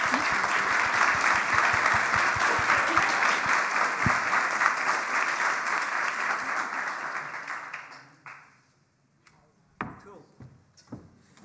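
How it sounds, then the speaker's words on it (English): Audience applause at an annual honorary lecture, loud and sustained for about eight seconds before it fades. A few scattered claps and knocks follow in the quiet afterward. "I think we can all agree on another round of applause."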